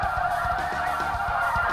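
A large flock of snow geese honks continuously overhead during a hunt, the dense, overlapping calls forming a steady loud chorus with no talk.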